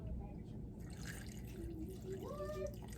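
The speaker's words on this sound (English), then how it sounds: "I'm just topping that up with a little bit more water" Water is poured in a steady trickle into a smoothie blender already holding fruits and vegetables, running throughout over a low background hum.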